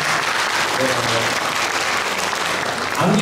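Congregation clapping at a church's 50th-anniversary classical concert, a full, even burst of applause from a crowd, with a speaking voice briefly audible beneath it and rising near the end.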